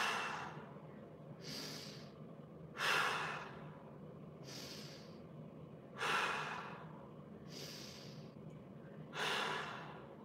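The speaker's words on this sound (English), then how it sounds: "Inhale 4 times." Deep breathing during a mobility exercise session, with slow, close inhales and exhales in a steady rhythm, about six breaths rising and falling evenly, with no talk.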